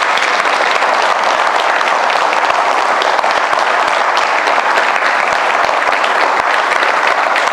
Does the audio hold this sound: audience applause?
yes